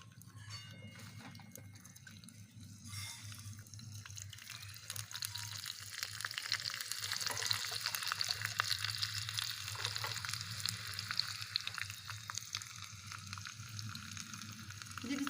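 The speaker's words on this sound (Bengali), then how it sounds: "এবার ঘির মধ্যে দিয়ে দিচ্ছি আমি কুচি করে রাখা রসুন" Chopped garlic frying in hot ghee held in a ladle for a dhaba-style dal tarka, a steady close sizzle that swells slightly midway and runs on alone with no talk.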